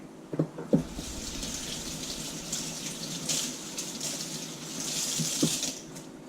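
Tap water runs steadily over lengthwise-cut leeks in a kitchen sink, a continuous close splashing hiss with a few knocks of handling at the start and end.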